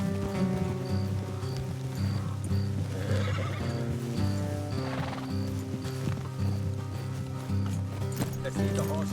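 Horses in the Red Dead Redemption 2 video game neigh and whinny amid steady hoof clip-clop, with light rain and a continuous game music bed underneath throughout.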